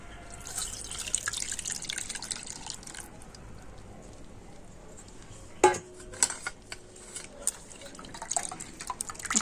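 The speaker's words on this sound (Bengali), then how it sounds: "এখানে আমি একটা বড় ছাগনে নিয়েছি তো এখন আমি তরমুজের জুসটা ছেঁকে নেব" Watermelon juice is strained through a large strainer, trickling and dripping quietly with a clink of metal partway through and light utensil knocks later.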